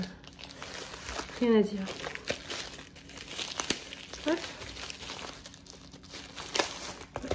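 Plastic packaging pouch from a craft supply box crinkling and tearing as it is opened, with sharp bursts of crackle close by under a French-speaking voice.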